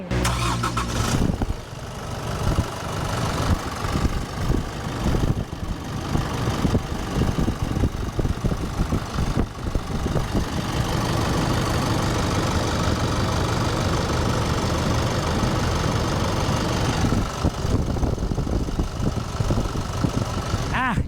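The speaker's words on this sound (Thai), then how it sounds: "ฟังเสียงเครื่องยนต์กัน" A 2020 Chevrolet Trailblazer 2.5 LT diesel SUV with 59,000 km turns over and settles into a steady, rumbling idle for around twenty seconds, loud and close, with no talking over it.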